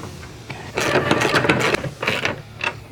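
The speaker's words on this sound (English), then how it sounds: "we're just going to get these nuts snug because we are going to be moving around the hood" Rapid ratchet clicking near the mic as nuts are snugged down on a fiberglass hood for a 92-96 Ford Bronco or F-series truck, in quick bursts with brief pauses.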